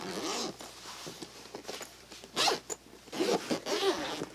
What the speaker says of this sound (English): so I can undo the zippers here and open this up